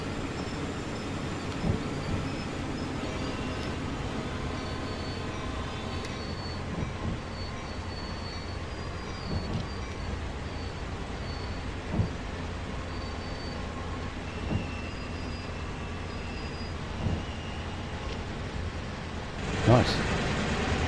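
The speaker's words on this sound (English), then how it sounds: "Oh, train." In Train Sim World 2 on Sand Patch Grade, a freight train carrying double-stacked containers rolls past with a steady, continuous rumble. Faint periodic clanks sound over it, and a louder knock comes near the end.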